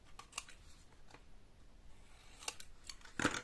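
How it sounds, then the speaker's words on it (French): Quiet snips of scissors trimming the edges of paper for a handmade mini album, a few scattered cuts with a soft papery rustle between them. "non, on coupe les bords."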